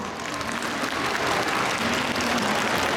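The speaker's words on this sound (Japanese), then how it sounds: "皆様、今一度警察音楽隊に盛大な拍手をお願いいたします。" Sustained audience applause for a prefectural police band after its winter traffic-safety performance, a dense steady wash of many hands clapping from start to finish.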